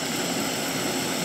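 A Jetboil camping stove burner roars loudly and steadily while boiling water, a close, continuous broadband rush with no other sounds.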